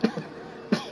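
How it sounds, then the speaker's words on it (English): A person coughs twice, sharp close bursts about a half second apart, with a faint rough throat sound between them. "I'm coughing."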